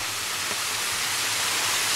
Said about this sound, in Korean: 여기서 이게 영축 폭포인데